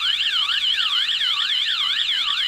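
An OSI wireless alarm siren under test from its SOS button wails loudly and continuously, its pitch sweeping rapidly up and down in a fast, regular warble with no voices.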